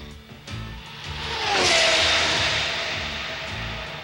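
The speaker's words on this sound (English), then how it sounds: "The sound of a race car coming toward you has a higher pitch, and the sound of a car going away has a lower pitch." An Indy 500 race car speeds past, its engine whine rising as it approaches and dropping in pitch as it moves away, loud and close for a few seconds.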